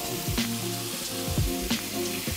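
Peppers, onions and garlic frying in a pan with salt, pepper and thyme, a steady close sizzle with a few sharper crackles and pops, and no talking over it.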